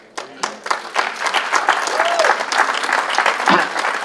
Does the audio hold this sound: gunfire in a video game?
no